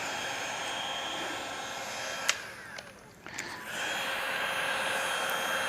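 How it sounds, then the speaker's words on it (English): Heat gun blowing steadily while paint protection film is peeled off a Porsche, a constant airy whoosh with a brief dip and a couple of sharp cracking snaps of film tearing. "This is why a heat gun sucks."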